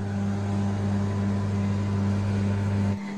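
A microwave oven heating chhena (cottage cheese) gives a loud, steady electrical hum that stops abruptly just before the end.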